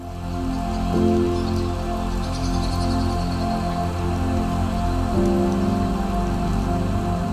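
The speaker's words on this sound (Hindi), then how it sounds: "लगातार 4 दिनों से हो रही झमाझम बारिश" Heavy monsoon rain pours steadily on a village in the hills of Bastar, a dense, constant hiss and patter of drops on surfaces at even loudness throughout, with no voices.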